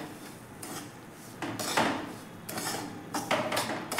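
Green mung bean mixture being stirred in a pan over a low flame for protein-rich ladoos, with repeated scraping and clinking of a spoon against the pan in uneven strokes, close by and with no talk.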